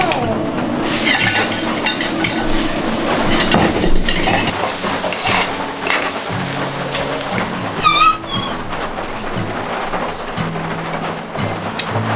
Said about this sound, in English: It has been raining for about over 30 hours straight now